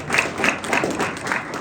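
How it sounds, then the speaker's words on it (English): A crowd claps for a speaker at a corporate anniversary event, a brief burst of moderately loud, dense applause. "Let's give him a round of applause."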